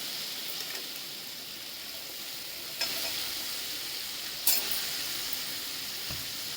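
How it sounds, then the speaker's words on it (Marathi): Chopped green chillies sautéing with onions in a pan for dal kanda: a dense, even, close sizzle with a couple of brief stirring scrapes and a soft clink near the end. "याच्यात दोन चिरलेल्या हिरव्या मिरच्या टाकून घ्यायच्या त्या आपण परतून घ्यायला"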